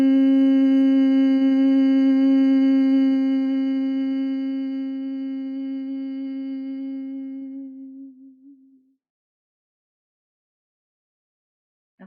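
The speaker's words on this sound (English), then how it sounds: "And then taking a breath to hum." A single steady hummed tone, voice toning on one sustained pitch, rings clear and loud for several seconds, then slowly fades to silence as the breath runs out.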